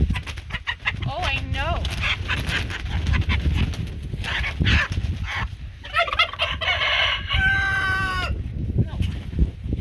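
Several hens and turkey-like fowl on a farm cluck and gobble in bursts, close and fairly loud, with birds calling over one another through the stretch and a steady barnyard murmur underneath.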